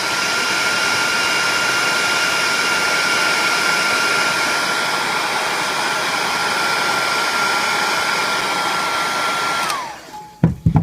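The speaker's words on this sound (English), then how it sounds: "And we'll now take our heat gun, turn it back on." A heat gun blasts hot air steadily at close range to shrink heat shrink tubing on the end of an audio snake cable, a loud continuous whoosh that cuts off abruptly near the end, followed by a few clicks.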